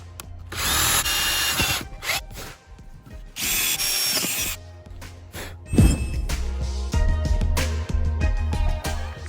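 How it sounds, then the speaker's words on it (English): A power drill bores holes into a wooden piece, whining in loud bursts with short pauses, punctuated by clinks and handling noises, close up and without talk. "I'm basically just going to drill 2 holes there"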